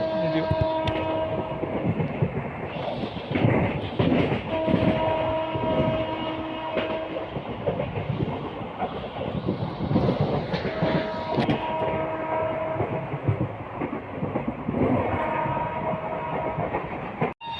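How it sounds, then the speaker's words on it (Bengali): The 12347 Howrah–Rampurhat Shahid Express runs fast through Dankuni Junction, with a loud continuous rumble and rattle of coaches, rhythmic wheel clatter and horn blasts sounding repeatedly. "ট্রেন আমাদের বন্ধুরা এখন স্কিপ করছে ডানকুনি জংশন"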